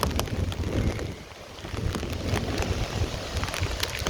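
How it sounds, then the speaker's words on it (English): Steady, loud gusting wind from the Hurricane Ian storm in College Park, Orlando, Florida, roaring continuously outdoors with rain-like hiss and rumbling buffeting on the microphone. "it's kind of just like a really windy storm"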